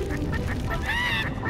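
Badly singing birds in the video game Skylanders Trap Team: a continuous, loud chorus of honking, goose-like squawks with wavering off-key pitches, no talk over it.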